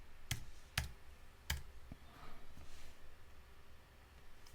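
Three sharp, quiet computer mouse clicks sound close and evenly spaced in CAD software during a desktop lamp drawing session, then a softer tick and a faint background hiss.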